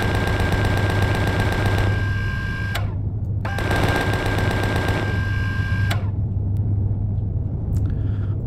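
Loud automatic gunfire in a video game drone base mission comes in two long, rapid sustained bursts of roughly three seconds each over a low rumble, separated by a brief gap, then trailing into quieter sparse sounds.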